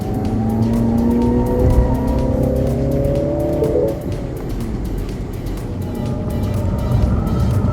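A Mini Cooper JCW on a race track, its engine droning loud and steady with rising and falling revs, a brief tire squeal as it corners, then continuing close by without any talk.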